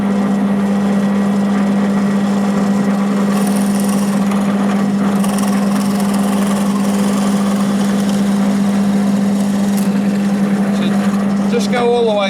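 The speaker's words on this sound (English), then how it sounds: "It's a 12 millimetre drill bit." A drill with a 12 millimetre bit bores a hole right through timber for a saw stool mortise, a steady loud motor drone with a strong constant hum running throughout without pause.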